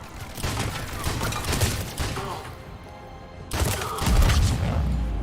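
A shotgun fires repeatedly during a firefight in Mass Effect 3: a rapid cluster of heavy close blasts, a short lull, then more booming shots with thuds and crashing impacts.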